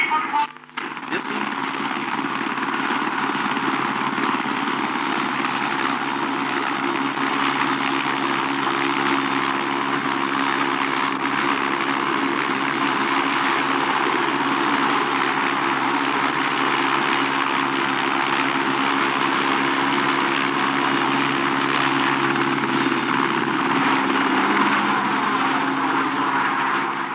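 A medical helicopter lifting off for an emergency crew, its steady engine and rotor roar continuous and loud throughout, with a voice speaking over it.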